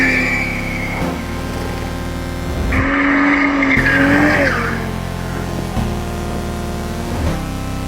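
A Toyota Supra with a stock-turbo 3.0-litre six-cylinder drifts, its tires squealing in a loud, sustained skid that rises and wavers in pitch over the engine's steady drone.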